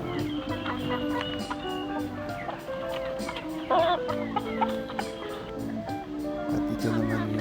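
Chickens of the Black Astrolip, Light Sussex and Decal Brown breeds cluck repeatedly in a breeder pen, nearby and fairly loud, with a voice talking over them throughout.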